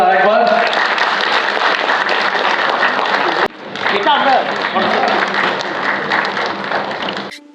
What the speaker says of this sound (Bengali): একবার জোরে করতালি হোক আরেকবার।